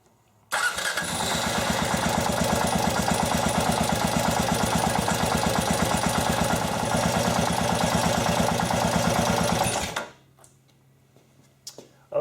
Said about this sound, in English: Now what I'm going to do is start the bike and let it run for about a minute just so that oil can circulate throughout the engine.